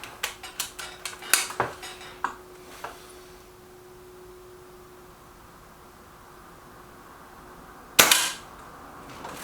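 A Reximex Myth or Kral Puncher Maxi air rifle fires a single sharp, loud crack near the end, preceded by clicks and metallic handling taps, with quiet room noise between.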